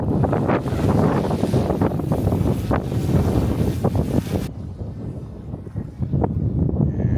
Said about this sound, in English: It is extremely windy today, so the wind is taking it.